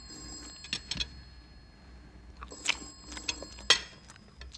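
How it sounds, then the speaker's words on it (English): Faint, slightly distant telephone bell rings in short metallic bursts, separated by quiet pauses, with light room noise. "telephone's ringing."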